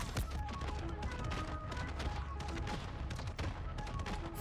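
Pistol shots in a first-person shooter video game, a dense crackling run of gunfire and impacts mixed with game sounds, steady and moderately loud throughout.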